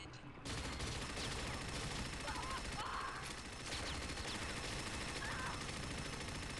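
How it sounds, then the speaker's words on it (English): Rapid machine-gun fire and gunshots in a Capture the Flag-style multiplayer shooter, sustained bursts with game effects layered over a dense, loud battle mix, while a player talks over it. "I got the bigger machine gun."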